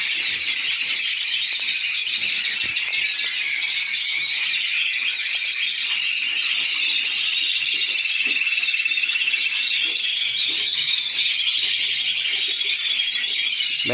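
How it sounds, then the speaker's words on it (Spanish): A bird in an aviary sings continuously, a dense run of bright, high chirps and trills that carries on without a break, close and fairly loud over faint background noise. "Hombre, ya está cantando el que el pájaro"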